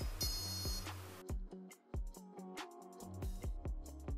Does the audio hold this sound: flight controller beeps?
yes